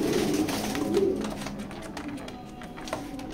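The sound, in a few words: pigeons cooing in loft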